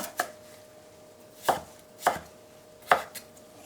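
A knife chops through vegetables for a spicy squid salad in four distinct, sharp thuds on the board, the last followed by a softer tap, each clearly separated by quiet pauses.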